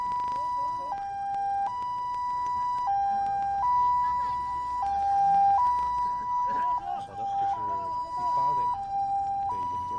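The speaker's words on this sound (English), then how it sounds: "The ambulance is now driving to the hospital." An ambulance siren wails in a steady two-tone hi-lo pattern throughout, carrying a rescued coal miner from a mine accident rescue to hospital, with low traffic rumble and some background voices beneath it.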